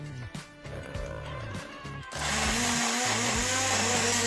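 An electric kitchen blender whirs through chili, ginger and coconut milk with coconut oil, starting with uneven chopping pulses before settling into a steady loud grinding roar.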